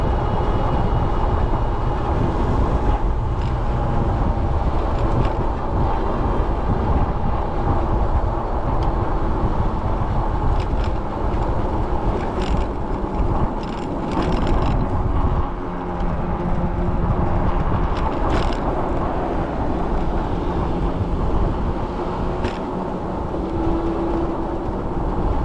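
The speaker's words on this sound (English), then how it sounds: "that wind is really blowing" Steady wind rushes loudly and continuously across the microphone during an e-bike ride on a trail near Upper Tampa Bay, a broad buffeting roar with low rumble that never lets up.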